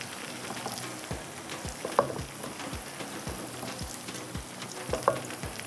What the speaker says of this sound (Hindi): प्याज जो फ्राई हो रहा है ना